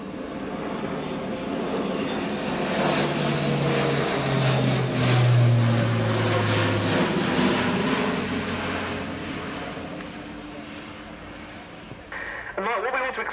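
An Airbus A400M Atlas military transport aircraft flies a display at the RIAT 2017 airshow, its propeller engines droning loudly and steadily, swelling and fading as it passes, with a commentator talking over the noise.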